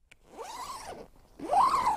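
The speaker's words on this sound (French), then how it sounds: "la fermeture éclair" The zipper on a motorcycle adventure tent is opened in two close, sweeping pulls, each a raspy rising-and-falling zip, with the second longer and louder than the first.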